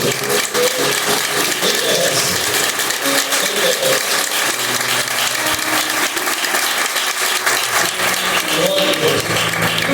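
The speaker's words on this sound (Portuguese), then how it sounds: "Aplauda vocês mesmo agora." Dense, steady applause from a large church congregation fills the room, with voices mixed in under the clapping throughout.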